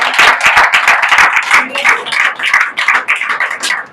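A church congregation claps hands together, a dense, steady run of sharp overlapping claps that carries on loudly throughout with no pause.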